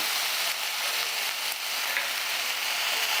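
Potato, eggplant and drumstick flowers with cumin powder sizzle and hiss steadily as they are stirred in a frying pan, a close, even frying sound with no talk.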